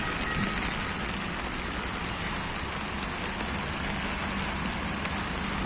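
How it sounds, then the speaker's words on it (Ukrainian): Heavy rain pouring steadily on a December day in Rome, a dense continuous hiss of drops on surfaces at constant loudness throughout, with no voices. "У нас надзвичайно похмура погода, сонечка сьогодні немає і дощить."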